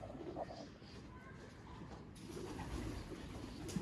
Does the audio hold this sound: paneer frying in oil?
no